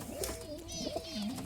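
A racing pigeon, a record-breaking bird once flown over 20 hours, coos in low, wavering rolls that run steadily through the moment, close by and moderately loud.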